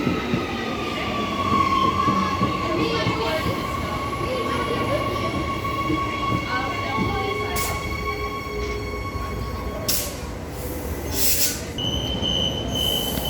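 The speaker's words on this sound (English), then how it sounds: "The service on departing platform number 1." Electric multiple-unit suburban train at a station platform, its steady motor hum and drone running throughout with high wheel squeal and brief sharp tonal bursts toward the end, close and fairly loud.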